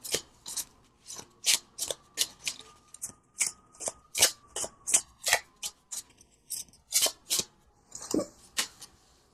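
Tarot cards from a Moon Garden deck being shuffled and drawn, a steady run of crisp riffling bursts and slaps repeating close up with brief gaps between, no talking.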